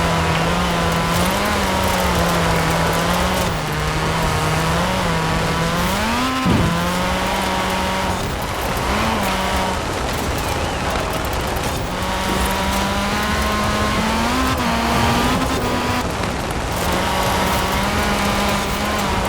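A 1990 Nissan Pulsar AWD rally car races in Forza Horizon 4, its engine droning loud and steady throughout, with pitch rising through the gears and short dips at the shifts.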